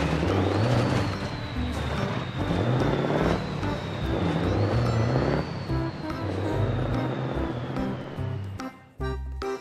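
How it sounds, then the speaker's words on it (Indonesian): A toy oil tanker truck plays a loud continuous engine-like drone with a rising and falling electronic whine, ending in a short clatter near the end. "Truk tangki minyak."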